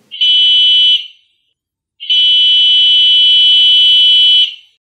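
A shrill, steady electronic road-vehicle horn tone on a model Nohab diesel locomotive sounds twice, first briefly, then held for several seconds, loud and close.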